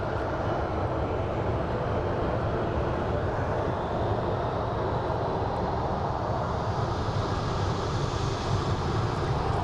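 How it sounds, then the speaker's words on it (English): An American Airlines 737 jet departing from Phoenix Sky Harbor airport, heard as a loud, steady, broadband engine roar that holds unbroken from start to finish. "We have an American Airlines 737. Departing for Reno."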